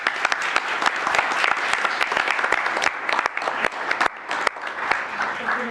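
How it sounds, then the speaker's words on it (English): A crowd claps at a city commission meeting in Lakeland, steady, dense applause lasting several seconds, loud and close in a meeting room, with no voices rising above it. "Let's give them a round of applause."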